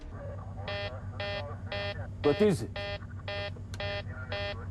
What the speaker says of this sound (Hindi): As Helios 522 climbs, cockpit के अंदर एक अलार्म बजना शुरू हो जाता है.